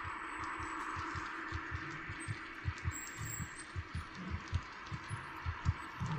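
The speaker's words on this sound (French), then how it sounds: "Il y a un battement de cœur ou quelqu'un qui court." A steady, rhythmic heartbeat thuds through a dark stretch of the horror game Among the Sleep, low double pulses repeating at a calm pace over a faint ambient hum, with no voices.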